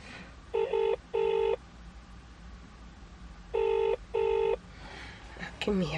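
Touch-tone telephone dialing beeps in two pairs of bursts over faint room noise, a person speaking quietly in the background and a brief louder voice near the end.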